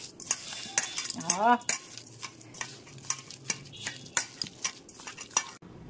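Wood apple pulp being mixed by hand with raw mustard oil and coriander leaves in a bowl, heard as close, irregular wet squelches and soft clinks of a spoon against the dish, with a brief chirping sound partway through.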